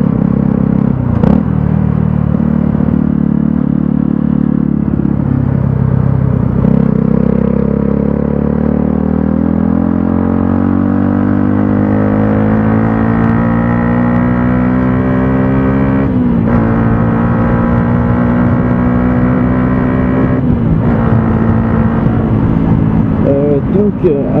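A tractor passes by outdoors, its engine a steady, loud low rumble that rises and falls in pitch as it moves past nearby over about twenty seconds.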